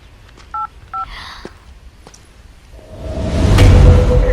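A mobile phone number is keyed in as a few quick electronic dial tones, followed by soft clicks and a rising whoosh of line noise with a steady ringing-type tone.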